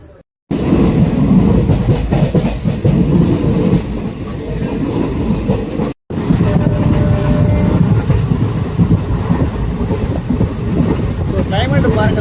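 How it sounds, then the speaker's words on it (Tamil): A Palakkad–Tiruchendur unreserved express train runs at speed with a loud, continuous rumble and rattle of wheels on rails, briefly cut at one point, and a voice speaks over the din. "ட்ரெயின் வந்து அடிச்சு பிடிச்சி ஓடிட்டு இருக்கு, ஸ்பீடு சரியான ஸ்பீடுங்க"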